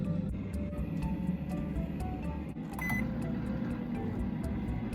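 A steady low hum of a running microwave oven fills the space, with faint regular ticking and a brief clack partway through.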